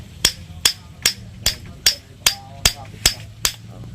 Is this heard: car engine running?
no